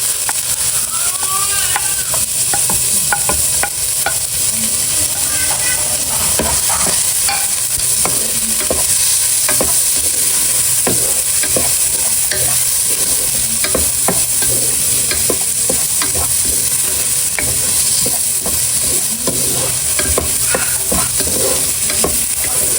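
Garlic and onion fry with ginger in a pan, giving a loud, constant sizzle under busy, rapid stirring scrapes and clatter throughout, with no talking.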